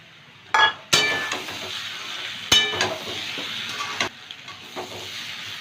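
Spices, Kashmiri chilli powder and chopped tomato stir-fried in a pan, soft sizzling beneath several sharp metallic clanks of a spoon against the pan, close and without talk.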